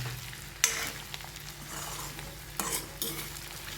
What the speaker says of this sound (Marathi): आता हे सगळं याच्यात टाकायचं आहे आपल्याला आणि पटापट पटापट हलवायचं हे